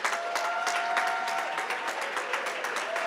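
A large audience at an HBCU All-Stars awards celebration applauds the players, with dense, steady clapping that holds an even level throughout, along with faint crowd murmur.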